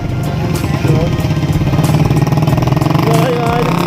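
Motorcycle engine running steadily at a race track day, a continuous mid-pitched drone throughout with a rider speaking over it.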